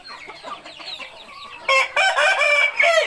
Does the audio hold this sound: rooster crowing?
yes